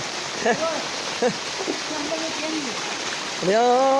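Steady rain falls outside, a dense continuous hiss under several people talking nearby.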